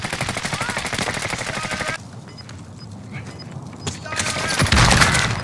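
Rapid automatic gunfire bursts in Call of Duty: Warzone played on PS4, loud and dense at first, then scattered distant shots and impacts after a pause before heavier firing returns, with players' voices mixed in.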